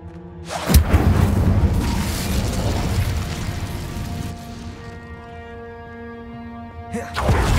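Incendio fire spell cast in Hogwarts Legacy, a sudden loud whooshing burst of flame that roars and crackles for several seconds, then fades into a ringing tonal tail before a second burst at the end.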